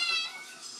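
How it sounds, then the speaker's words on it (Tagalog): A young female cat, about eight months old and in heat, gives a short, fairly loud high-pitched meow that trails off, heard alone. "Naglalandi na yung babae namin pusa."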